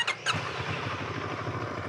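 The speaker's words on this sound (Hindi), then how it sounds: "अब ये जो मोटरसाइकिल है ना ये इनलाइन ट्विन सिलेंडर से लैस है सिक्स फिफ्टी की कैपेसिटी है इसकी पूरी पूरी लेकिन साउंड कैसा है भाई" A Moto Morini Seiemmezzo 650cc inline twin motorcycle idles nearby with a steady, throbbing mid-low rumble after two short sharp bursts at the start.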